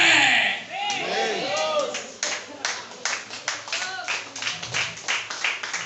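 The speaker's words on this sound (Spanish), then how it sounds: "Aplauda por Dios, aplauda." Congregation clapping during a Pentecostal-style vigil church service, with rhythmic claps building in a reverberant hall, after a loud voice at the start.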